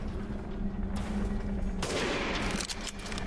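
Rapid gunfire bursts from the video game Resident Evil Village, loud and close, with sharp broadband cracks clustered across a few seconds and no talking over them.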